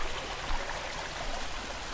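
A stream flows and swirls steadily, a dense continuous wash of water noise at moderate level with no voices.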